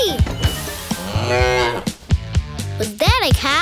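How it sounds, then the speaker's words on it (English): A cartoon cow moos several times, loud and close, with long drawn-out bovine calls and a rising-falling final moo, set among other animated sound effects. "Was that a cow?"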